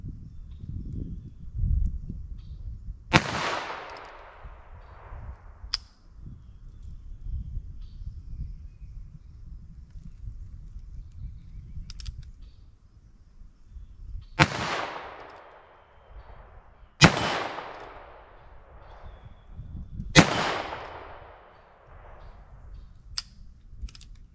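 A .22 Magnum single-action gun fires at an outdoor steel plate, four loud sharp shots ringing out seconds apart, each trailing a brief echo, with quieter handling noise and faint clicks between.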